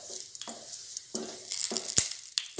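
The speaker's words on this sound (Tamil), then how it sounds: "இப்போ இது நல்லா வறுத்துக்கலாம்." Cashews and spices such as cinnamon and cardamom sizzling in hot ghee in a pan for kesari, bursts of crackling frying with stirring scrapes between them, close and moderately loud.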